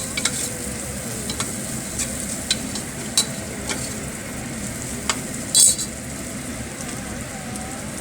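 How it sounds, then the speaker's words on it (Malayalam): Crushed garlic and ginger sautéing in a pan for a Kuttanadan crab curry, a soft continuous sizzle with scattered crackles and a couple of sharper stirring clicks, no talking. "വഴന്നുകൊണ്ടിരിക്കുന്നു."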